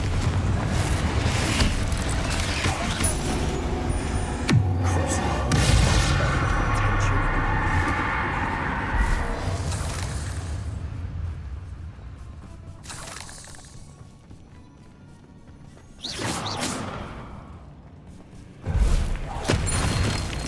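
A Confringo blasting spell exploding in the Hogwarts Legacy video game, heard as a loud roaring burst with rumbling debris that fades out, followed by further sharp magical impacts, with a voice speaking in the game.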